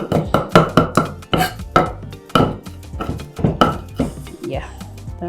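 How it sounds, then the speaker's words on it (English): A knife rough-chops parsley and scallion on a board for homemade coleslaw, a run of quick, close, uneven chops broken by short pauses, with someone talking over much of it. "So I'll give you a rough chop."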